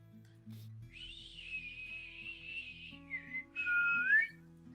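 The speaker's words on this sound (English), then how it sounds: "Pretty sharp, loud whistle." A sharp, loud whistle rings out close by, one sustained high tone that dips, then returns in short bursts and a rising final note over quiet background murmur.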